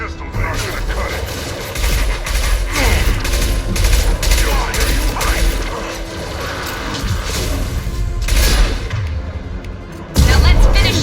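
Rapid gunfire from the Mass Effect 2 video game, loud and dense with clattering mechanical shots and bangs piling up in a sustained barrage, then a heavier thump near the end.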